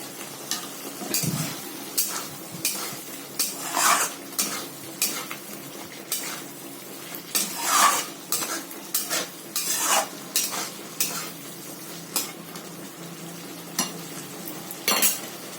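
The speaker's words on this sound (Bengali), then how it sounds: "আলুটা দিয়ে ভালো করে কষিয়ে নেব এবার" Potatoes sautéed with spices for a vegetarian aloo paneer, stirred in a pan with repeated scraping strokes of a utensil over a steady low sizzle, no voices present.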